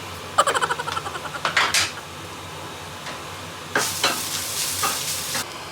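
Scrambled egg cooks in butter in a pan, heard as a rapid run of scraping stirs, then a quieter stretch, then a louder sizzling burst with more stirring toward the end.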